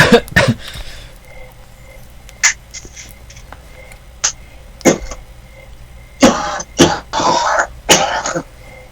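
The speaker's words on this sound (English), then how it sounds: "We cough over here too, trust me." Several harsh coughs and throat-clearing bursts from a man with COPD come close and loud, scattered in short clusters with quiet gaps between them.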